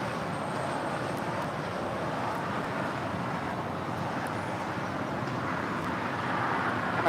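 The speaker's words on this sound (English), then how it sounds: "Got another 777 freighter lining up for a Southside departure on 25 left." A Boeing 777 freighter departing on runway 25 left, a steady broadband jet roar that holds at a constant distance throughout, with no one talking.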